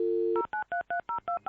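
Telephone dialing: a steady dial tone cuts off into a quick series of seven evenly spaced touch-tone beeps, clear and close.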